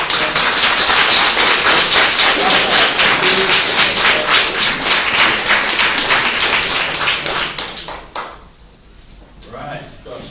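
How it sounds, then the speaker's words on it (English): Audience applause at a book-signing event with author presentations, a dense steady wash of clapping that fills most of the clip and then fades out near the end. "Can we have a round of applause?"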